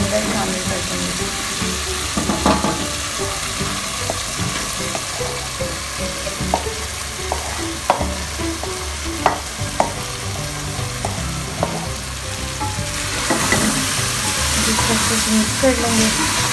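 Fried bitter gourd, onion and green chillies being stirred into a masala of bitter gourd and meat curry, a continuous close sizzle with spoon knocks and scrapes scattered throughout, a faint voice briefly underneath.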